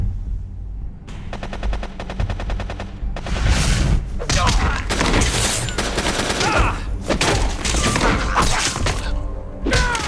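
Rapid bursts of video game gunfire from Metal Gear Solid: The Twin Snakes, with dense automatic fire, thuds and shattering crashes layered into a loud, continuous barrage.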